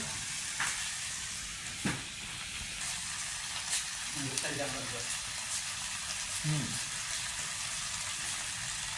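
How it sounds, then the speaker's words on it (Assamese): Pork sizzles steadily in hot oil in a pan, a constant bright crackling hiss with occasional stirring clinks and scrapes, while a person talks at times. "ফ্ৰাই কৰাত মানে তেলটো অলপ অভাৰ আছিলে সেইটো আমি তেলটো পেলাই দিলোঁ"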